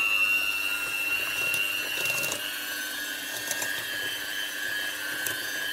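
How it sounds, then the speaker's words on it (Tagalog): An electric mixer beats banana cake batter with vanilla extract, giving a steady, loud, continuous motor whine with a high buzzing tone and no talking. "Ngayon, gagamit na tayo ng machine para mas madali siyang haluin."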